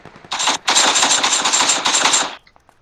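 Rapid automatic gunfire rattles in the PUBG battle royale game, loud sustained bursts with a brief pause, then a couple of faint distant shots as it fades.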